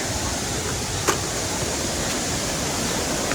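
Gandahati Waterfalls in Odisha, heard from the top, makes a steady, broad roar of falling water that fills the scene evenly from start to finish, with a faint knock partway through.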